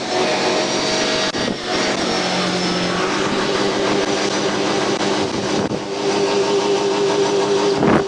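A wrecked suspect car after a police pursuit, its engine held at hard, sustained high revs, loud and droning throughout with brief dips, with no clear talk.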